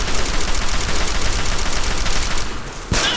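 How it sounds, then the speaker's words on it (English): Sustained gunfire in Fallout 3 aimed at a canister, a dense continuous barrage of loud shots with no talking, ending in a sharp burst near the end. "do I just, shoot at this canister?"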